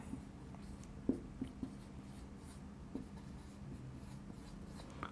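A pen writes on paper close by with quiet, continuous scratching and a few soft taps as an accounting journal entry is filled in, and there is no talk.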